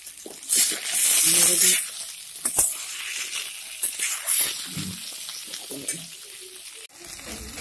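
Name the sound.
vegetables frying in a pan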